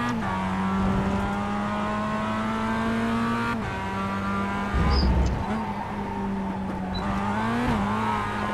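Mazda MX-5 Cup race car engine in the iRacing simulator at WeatherTech Raceway Laguna Seca, a steady close droning note rising and falling through gear changes, with brief tire squeal and curb rumble, continuous throughout.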